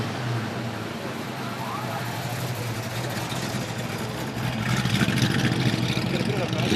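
Ford V8 car with an old 351 Cleveland engine running steadily at close range, a low continuous rumble that thickens and grows slightly louder toward the end, with background voices at a car show.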